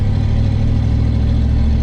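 A tractor engine with a broken exhaust idles roughly, sounding like it is running on seven of its eight cylinders. The uneven low rumble is loud, steady and close, with no talk over it.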